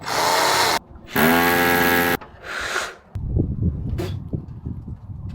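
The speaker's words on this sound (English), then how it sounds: "10mm SDS bit." Power drill fitted with a 10mm SDS bit, boring in three loud, close bursts of roughly a second each with short pauses between, followed by softer handling knocks.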